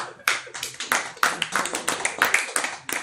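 An audience at a church anniversary gathering claps for about three seconds, a close, dense patter of hands with uneven bursts that thins out toward the end.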